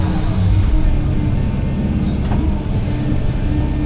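A new Volvo EC200E excavator loads gravel into a brand new truck: a steady low engine rumble with a few brief higher scraping and clattering bursts near the end.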